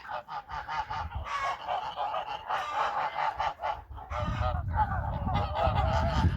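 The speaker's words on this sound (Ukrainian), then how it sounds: "Ось такий табунчик гусей." A flock of geese honks loudly and continuously, overlapping calls in a busy, rhythmic chorus, close by.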